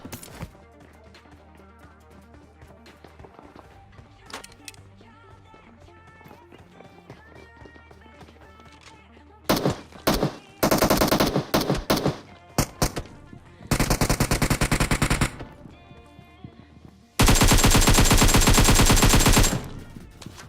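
Bursts of rapid automatic gunfire ring out in a building fight in a battle royale video game, loud repeated volleys after a quieter stretch of in-game sounds and footsteps.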